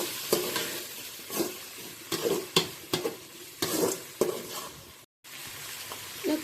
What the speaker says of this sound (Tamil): தக்காளி நல்லா வதக்கி விட்டுக்கலாம்.